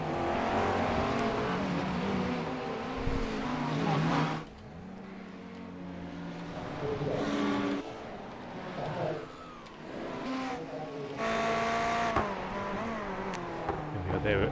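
Ferrari GT3 race car engine in the iRacing video game at Lime Rock Park, revving and shifting through gears with loud surges and dips, under a voice talking.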